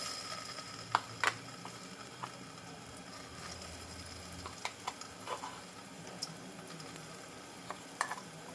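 Poppy seed paste stirred into about three tablespoons of hot ghee in a pot for poppy seed payasa: a faint, low sizzle with scattered soft scraping clicks from the spoon, and no talking.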